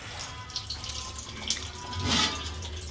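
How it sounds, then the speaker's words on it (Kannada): Water splashes and runs steadily as a cloth is rinsed in a kitchen while kotte kadabu, steamed rice dumplings in leaf cups, are prepared. The sound is close and continuous with a brief louder gush near the end. "ಇದನ್ನ ಇವಾಗ ಒಂದ್ಸಲ ನೀರು ಹಾಕಿ ತೊಳ್ಕೊಂಡಿದ್ದೀವಿ"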